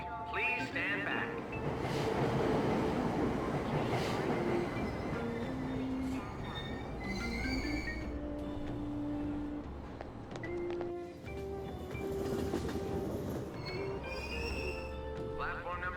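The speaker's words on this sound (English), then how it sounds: "Platform number 2, service to Asakusa is departing soon." A subway train in the video game Persona 5 Royal pulls away from a station with rolling rumble and squealing wheel tones, while station announcements play over it.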